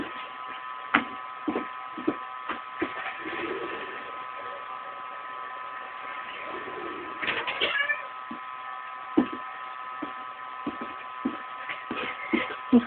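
Cats meowing repeatedly near a small garden house, a series of short meows and a longer drawn-out cry, with rustling and handling sounds in between under a steady hum.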